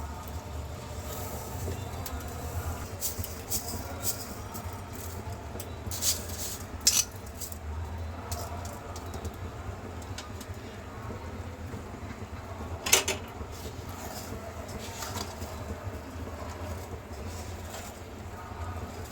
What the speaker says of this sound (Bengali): এবার চালগুলি ভালোভাবে ভেজে নেব।